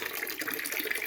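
Water runs from a hillside spring at a temple on Thavalagiri Hill in rainy weather, a soft, steady trickling flow heard close by without voices.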